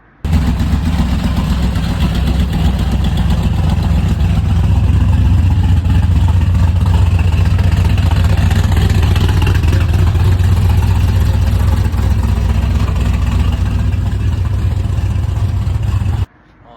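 A 1979 Chevrolet Camaro engine runs steadily close by, a loud continuous low rumble at idle that holds for about sixteen seconds and then cuts off abruptly.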